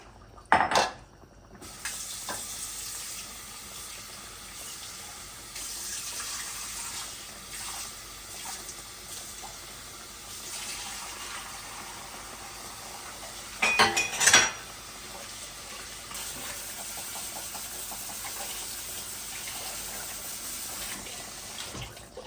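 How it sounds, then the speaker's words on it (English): Soaked tur dal drained in a home kitchen while preparing Indian lamb curry: a faint, steady trickle of water runs for a long stretch, with sharp clinks and clatters of a metal pot near the start and again midway. "And I'm going to drain the dal that I put in water."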